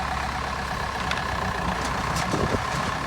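An old farm tractor engine running just after starting, a loud, steady low rumble close by with faint clanks over it, no talking.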